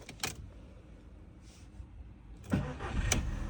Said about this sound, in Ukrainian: Машина заводиться на бензині.